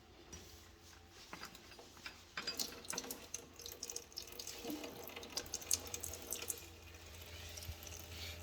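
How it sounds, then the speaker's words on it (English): Water flows from an outdoor tap into a drain pipe as the line is emptied, a faint trickle that becomes a quiet, uneven splashing with small drips and ticks. "just turn on the water on the outside just to get all the water out from the pipe"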